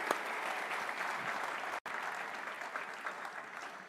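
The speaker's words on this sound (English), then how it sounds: "Shall we give Pastor Poju a round of applause?" Audience at an entrepreneurs' summit applauding a pastor, a continuous even wash of many hands clapping, moderately distant, with one abrupt brief dropout midway.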